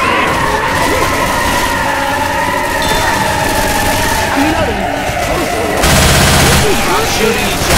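Rapid gunfire from a Left 4 Dead 2 firefight on a custom Ravenholm map, a continuous dense barrage with skidding noise and game sounds, growing heavier near the end, with voices talking over it.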